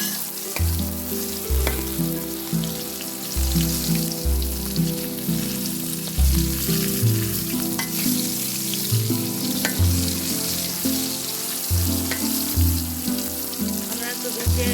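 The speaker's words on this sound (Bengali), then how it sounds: "আমরা একটু ভেজে লাল লাল করে নিচে একটু কড়া ভাজি হচ্ছে" Padma hilsa fish frying in a pan with onion and chili, a steady close sizzle running throughout, overlaid by a strong rhythmic low musical beat that partly masks the crackle.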